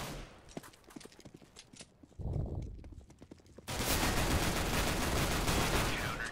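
Pistol fire in the video game Counter-Strike: Global Offensive during a two-versus-two competitive round: a fast string of sharp, crackling shots that gives way to a dense, steady roar of game noise, with no talk over it.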